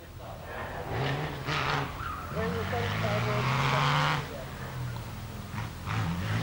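The ex-Lord Howe C-Type ERA R8C race car climbs a hill, its engine rising and falling in pitch through gear changes at close range, with a voice talking over it.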